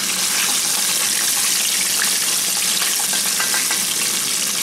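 Croaker fish deep frying in a pot of hot oil gives off a steady, dense crackling sizzle, close and continuous with no pauses.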